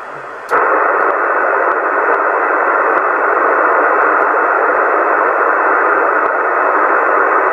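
CB radio interference on channel 27 bursts in as a loud, continuous hiss of static that stays steady for several seconds, with faint clicks underneath and no clear voice.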